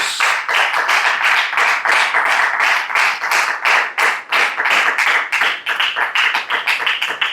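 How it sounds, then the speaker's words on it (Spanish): Loud rhythmic clapping from a church congregation at an evangelical service, close and sustained in fast regular bursts without talk. "¿Cuánto le pueden dar un fuerte aplauso al Señor?"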